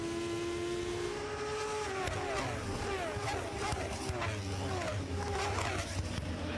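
Triumph-powered Moto2 racing motorcycle engines at the 2025 French Grand Prix whine and rise in pitch as they pass, a steady roar with shifting tones, no voices heard.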